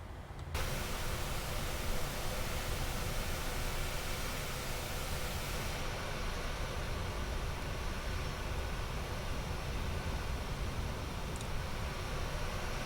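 Boeing 737 engines idle while the jet taxis at San Francisco in Microsoft Flight Simulator 2020, giving a steady broadband whine and rumble that holds unbroken throughout with no voices over it.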